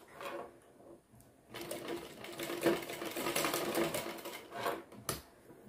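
Sewing machine stitching a small triangular fabric latkan, a rapid ticking needle run that starts after a brief quiet and continues for several seconds, close but soft.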